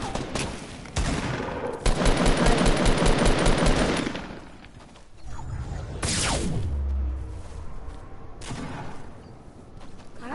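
Enemy gunfire in a shooter video game, sustained rapid automatic bursts rattling loudly and close, broken by pauses, a whooshing pass and later more firing from a slightly different direction.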